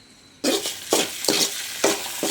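Masala being sautéed and stirred in a pan for poori potato curry, with sizzling bursts returning in a steady rhythm of scrapes, close and fairly loud, no voices.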